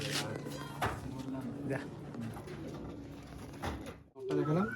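Pigeons coo softly at a loft in Barasat, the low calls partly buried under someone talking nearby with some handling noise.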